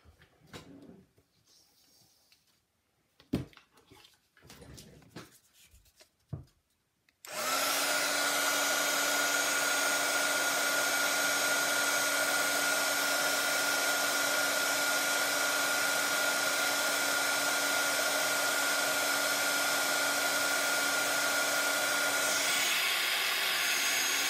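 Heat tool blowing hot air over a paper craft wreath, a steady loud roaring whoosh that starts abruptly after a few handling knocks and runs on unbroken.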